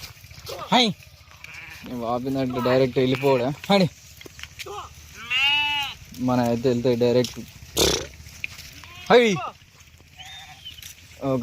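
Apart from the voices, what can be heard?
flock of sheep bleating while being herded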